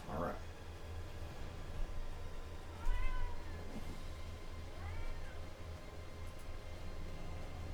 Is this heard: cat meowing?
yes